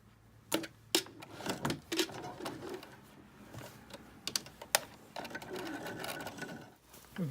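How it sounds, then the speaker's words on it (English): A home sewing machine runs a straight quilt seam in steady bursts, whirring close by with brief stops and light clicks between runs. "Then just stitch all the way down."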